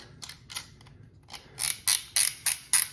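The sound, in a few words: Winchester 1907 rifle mechanism being reassembled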